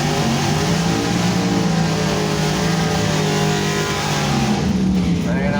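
A 1966 Ford Mustang fastback runs its engine at a drag strip, a steady, loud, rumbling drone that holds without breaks, with outdoor noise around it.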